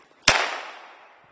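A single sharp shot from a C8 rifle cracks close by, followed by a short fading echo.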